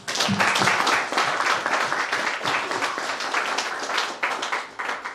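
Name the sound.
applause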